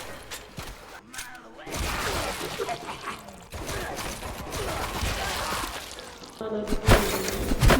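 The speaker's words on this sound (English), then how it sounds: "Quit smashing my precious cameras!" Cameras are smashed in the video game Twisted Tower: repeated glassy shattering and breaking crashes over a busy game soundscape, loud and close, with the bursts clustering in bunches.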